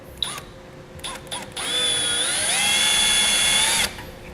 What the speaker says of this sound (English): We'll now drill out our holes using the marks that we made.